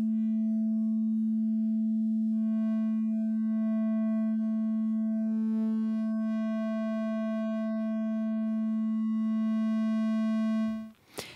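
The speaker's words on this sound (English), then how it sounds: "this is just a bunch of sine waves in this case" A bank of sine wavetables on an Audiothingies MicroMonsta synthesizer, a sustained pure tone with soft upper partials and a brief higher note midway, held steadily before cutting off abruptly.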